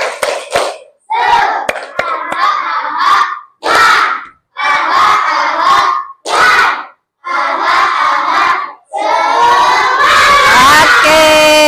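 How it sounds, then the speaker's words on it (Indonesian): Schoolchildren in an Indonesian classroom perform a rhythmic clapping chant led by their teacher, with loud bursts of group shouting and clapping separated by short pauses, building into a sustained cheer at the end. "Tepuk semangat."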